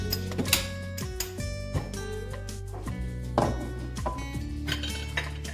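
Utensil mixing flour into pancake batter in a bowl, with repeated clinks and scrapes against the bowl in an irregular rhythm and steady background music underneath.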